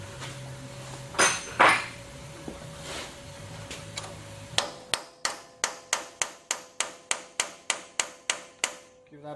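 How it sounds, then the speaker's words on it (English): A hammer and punch tap a locking nut on a Toyota Prado front strut, struck in a fast, even series of about fifteen sharp metallic raps, close and clear; a couple of louder knocks and handling noises come first. "I'm just going to grab a hammer with my punch."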